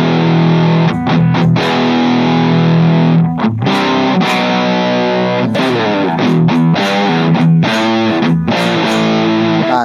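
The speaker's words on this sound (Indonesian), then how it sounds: "Nah distortion ini pasti kalian sering dengar ya, terutama di lagu-lagu metal, rock ya." Electric guitar played dry through a distortion stompbox pedal with no reverb or delay, heavily saturated sustained chords and riffs with choppy muted stops, loud and close with no voices.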